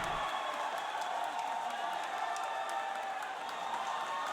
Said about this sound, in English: As you can tell, the crowd goes wild.